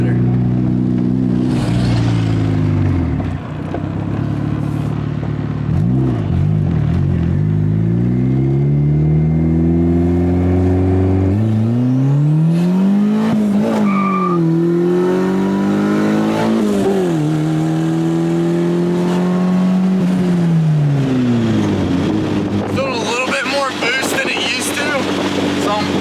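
A Honda Civic fitted with an eBay EMUSA turbo revs hard under boost, its loud engine tone climbing through repeated rising pulls and gear changes, close and continuous over the whole stretch.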